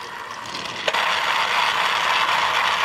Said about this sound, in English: the Tunnel Blast set is all set up, and I already put batteries inside Diesel. So, off he goes